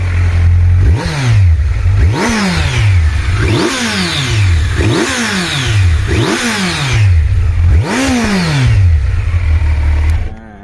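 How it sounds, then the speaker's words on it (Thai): A low-mileage 2020 Kawasaki Z900 Special motorcycle is revved six times in quick succession, each blip rising sharply and falling back to idle, loud and close. "มาฟังเสียงเบิ้ลรอบครับ"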